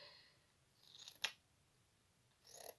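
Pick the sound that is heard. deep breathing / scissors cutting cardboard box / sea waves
scissors cutting cardboard box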